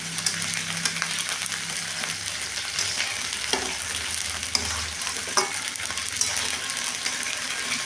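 Coriander and chilli powder spices fry in hot oil for a pulao, a continuous close sizzle with scraping stirring clicks throughout and no talk.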